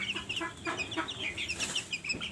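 A hen clucking in a series of short, rapid, fairly close calls with a faint background hum; no voices.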